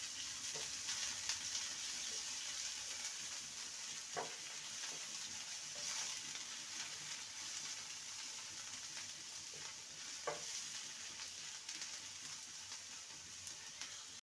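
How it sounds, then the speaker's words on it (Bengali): Chopped medium-sized onion fries until light golden brown, a steady hissing sizzle with occasional light stirring clicks and scrapes, fairly quiet and unbroken throughout, with no voices. "পেঁয়াজটাকে হালকা গোল্ডেন ব্রাউন করে নেব।"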